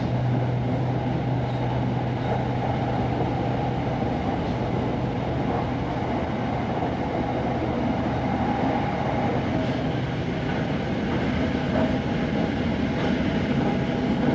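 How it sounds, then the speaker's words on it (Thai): A train on the Bang Sue station line in Thailand travels at about 140 km/h, giving a loud, continuous interior rumble and roar with a steady low hum and no voices. "ช่วงนี้ก็ถือว่าเป็นช่วงที่รถไฟ ทำความเร็วเนาะ"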